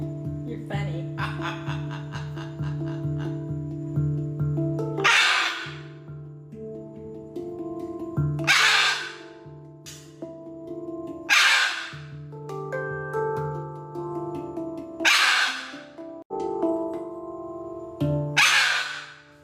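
Parrot at a bar and restaurant setting letting out several loud, harsh squawks at roughly regular intervals, each a short raspy burst close by, with a steady humming background between calls.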